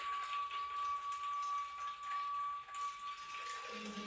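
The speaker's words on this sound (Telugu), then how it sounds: "ఇవి ఇప్పుడు వాటర్ బాటిల్లో వాటర్ పట్టాలి" Tap water runs steadily into water bottles at home, a continuous splashing hiss that stays close and fairly even, with a slight change in tone near the end as the bottle fills.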